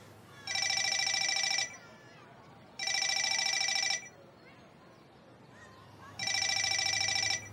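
A telephone rings in three loud electronic bursts separated by quiet gaps, with faint indoor background sound between rings.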